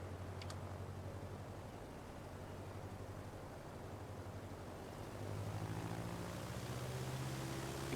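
A simulated general aviation propeller plane drones steadily in flight in Microsoft Flight Simulator 2024. The engine tone is faint and continuous and shifts slightly higher partway through.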